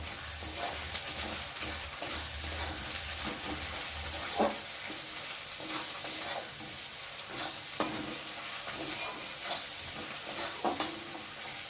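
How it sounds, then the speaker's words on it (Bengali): Spice masala with chili powder fries in a pan for a chicken dish, a soft continuous sizzle broken by repeated scraping stirs that come every second or so. "আর দেবো লঙ্কার গুঁড়ো দিয়ে মশলাটা ভালো করে ভেজে নেবো"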